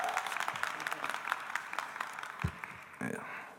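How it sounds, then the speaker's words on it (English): Boisterous audience applause and cheering at an industrialization summit hall, a steady wash of clapping with a couple of louder shouts or whoops near the end. "We got a boisterous crowd."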